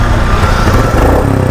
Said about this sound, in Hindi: देख लेता हूँ यार क्यों नहीं चल रही इनकी बाइक, ऑन ही नहीं हो रही